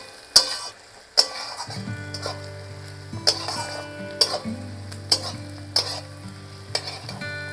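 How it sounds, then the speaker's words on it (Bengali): Catla fish head fries with chopped ginger in a hot pan, giving a steady sizzle broken by sharp, regular spatula clinks and scrapes against the metal. No one speaks. "এবার পুরোটাকে একটু ভাজা ভাজা করবো।"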